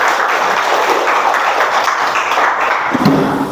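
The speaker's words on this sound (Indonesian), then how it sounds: "tepuk tangannya buat Tari" Classroom applause for a student: a loud, steady burst of many hands clapping close by, continuing throughout with a few thumps near the end.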